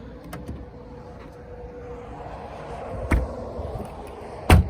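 The motorized trunk lid of a 2015 Mercedes C 300 hums shut. A low electric whir builds steadily, then ends in a firm latching thump.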